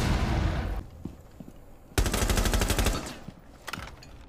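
Bursts of rapid automatic gunfire in Rainbow Six Siege, a loud sustained volley for about a second, then scattered shots, then another burst that fades out.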